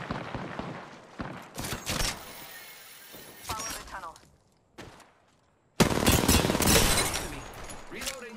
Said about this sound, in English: They spotted me. I'm taking shots.